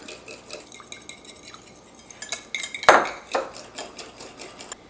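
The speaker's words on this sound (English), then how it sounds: "And then you're just gonna whisk this up." A homemade natural cleaning mixture with orange essential oil is whisked in a bowl, producing light rhythmic clinks and scrapes of the whisk against the container, with one louder knock midway.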